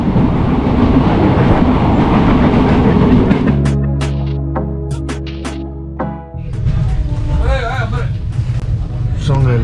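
Inside a moving long-distance passenger train in India bound for Delhi, a loud, continuous rumble and rattle of the carriage fills the space, then shifts to a steadier droning hum with sharp clicks and knocks, and faint voices come through underneath.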